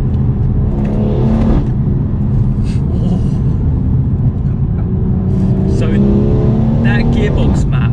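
A stage 2 tuned BMW M240i pulls away under acceleration, its engine rumble rising through the revs as people talk inside the car over the steady drone.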